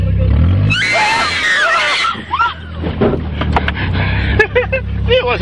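Girls scream loudly and continuously while riding down a steep hill on a farm, with rumbling vehicle noise beneath and shrieks and laughter trailing off toward the end.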